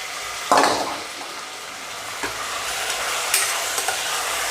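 Mutton dropped into fried onions with coriander in hot oil for biryani: a sharp burst of sizzle as it lands, then a steady frying hiss with a few spoon scrapes and stirring clinks against the pot.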